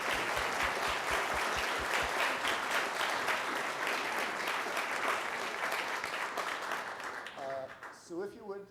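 An audience at a history lecture breaks into sustained, dense applause, loud and continuous for several seconds before tapering off as a voice begins to speak.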